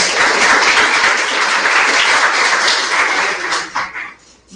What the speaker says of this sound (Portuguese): a apresentação da Letícia, a salva de palmas para ela.